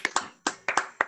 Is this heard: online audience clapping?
yes